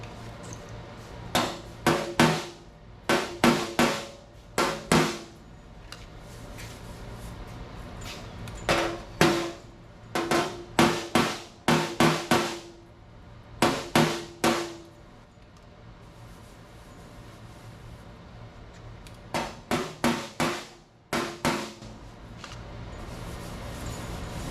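Metal hammering on car body panels rings out in quick clusters of sharp strikes separated by short pauses, loud and close against a quiet workshop background.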